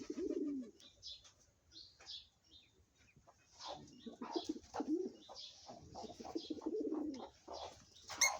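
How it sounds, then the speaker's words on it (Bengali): Freshly released pigeons coo softly in low, rolling bursts that come and go, with faint chirps and light rustling around them. "কবুতর গুলো দেখতে কি সুন্দর"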